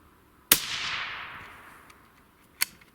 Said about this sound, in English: Cold bore shot.